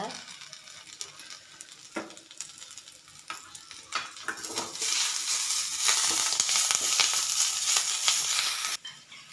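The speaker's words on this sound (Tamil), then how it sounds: "உப்பு சேர்த்து நல்லா வதக்கிக்கோங்க." Drumstick leaves sauté in a pan with salt, bringing sporadic scraping and stirring clicks at first, then a louder, denser sizzle that swells and stays up until a sudden drop near the end. No one speaks.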